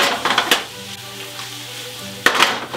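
Vegetables and garlic fry over high heat in a pan with a loud, steady sizzle, broken by a few scraping, clattering stirs near the start and the end.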